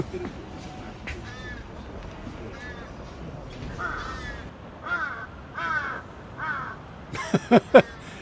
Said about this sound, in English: we can hear that the crows are there